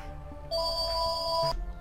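A phone rings in steady electronic tones for about a second inside the horror game Camera Obscura, loud and alone over a low ambient drone with no voices.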